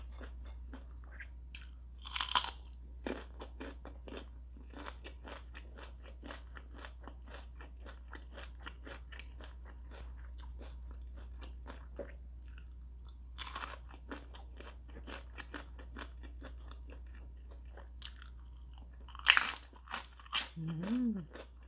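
Spicy flavoured Thai pork rinds being crunched and chewed close to the mic, with a steady run of crisp bites and chewing crackles, plus a few brief louder bursts.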